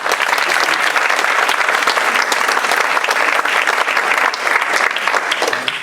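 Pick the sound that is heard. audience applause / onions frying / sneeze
audience applause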